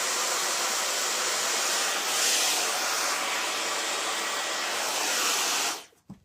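A hair dryer drying curly hair blows with a loud, steady airy whoosh, its pitch shifting slightly, and then it is switched off near the end.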